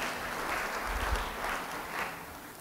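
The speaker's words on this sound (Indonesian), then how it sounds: "Yang percaya beri tepuk tangan bagi dia." Congregation applause during a church service, a soft, steady wash of many hands clapping at a distance, low in level and continuous throughout.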